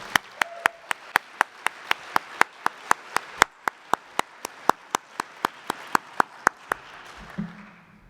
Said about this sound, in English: So I'd just like to give a quick round of applause for both Pierre and for OpenCraft